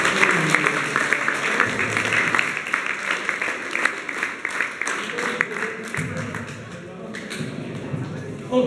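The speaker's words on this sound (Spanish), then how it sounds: "Un aplauso para ustedes," An audience of young people at a youth leadership and anti-bullying workshop applauds, the clapping loud at first and thinning out, with voices mixed in and a brief louder bit near the end.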